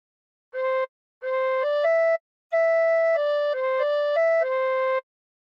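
A tin whistle plays the Incy Wincy Spider melody phrase in clean, pure tones: a couple of short notes, a pause, then a run of stepping notes, close and alone.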